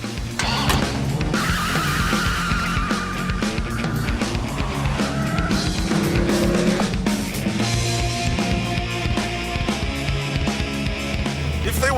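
An 8.3 litre V10 Dodge Viper is driven hard, its engine roaring continuously and loudly with tire squeal and skidding throughout, with no talking over it.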